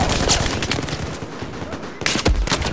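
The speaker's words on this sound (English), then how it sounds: "I literally just got one shot by a pistol." Battlefield 4 gunfire crackles loud and close in a fast, dense burst of overlapping shots. A short lull follows, then more sharp cracks and a heavy boom, with brief game voices mixed in.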